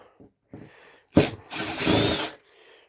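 A Phillips screwdriver working on the back cover of a flat screen TV: brief scrapes and taps, then a loud, close grinding burst lasting about a second, followed by quieter handling noise.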